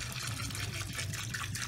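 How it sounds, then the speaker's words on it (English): Water from a refilled Elmer's white glue container pours into a large slime mixture, a soft continuous gushing trickle heard close and quiet. "we have refilled the container of glue with water to now add into the mix."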